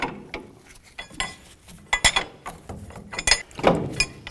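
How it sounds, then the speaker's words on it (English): Wrench tightening an upper ball joint nut onto its stud on a GMC Sierra 1500 pickup, a string of close metallic clicks, ratcheting and clinks in irregular bursts, no voices. "Now we'll use our wrench and we'll tighten it up."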